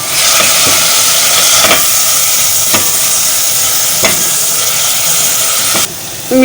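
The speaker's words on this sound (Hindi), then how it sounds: "मीडियम आंच पे इसको भूनना है।" Onions, pepper and other barley soup ingredients sauté on medium heat in a pan, a loud continuous sizzle broken by several sharp scraping strokes of a stirring spoon, cutting off abruptly near the end.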